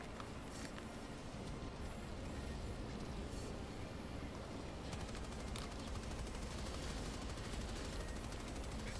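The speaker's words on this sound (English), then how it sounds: "I called in the machine gun for the first time and just held down the fire button at a bunch of them" Machine gun fire in the Helldivers video game, a dense, continuous rattling barrage held for several seconds, loud and close, with rapid regular bursts toward the end.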